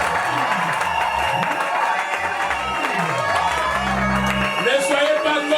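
Wedding guests in a church congregation clap and cheer during a Sunday nuptial blessing, a sustained wash of applause and joyful shouting with voices and music mixed in.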